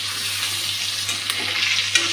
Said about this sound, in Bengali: এখন আলুটা একদম কড়া করে ভেজে নেব